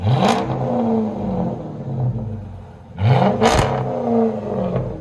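A 2006 Chrysler 300C with the 5.7L HEMI V8 and dual Dynomax Race Bullet exhaust revs twice, close and loud, each blip rising sharply before settling back to a deep, rumbling idle.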